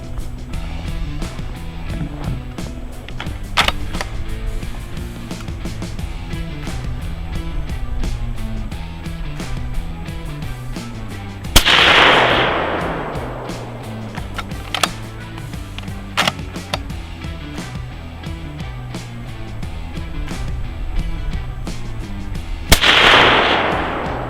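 A .338 Lapua Magnum rifle fitted with a YHM Bad Larry suppressor fires two loud, sharp shots about eleven seconds apart outdoors in the snow, each with a brief echoing tail, with faint clicks and handling noises between.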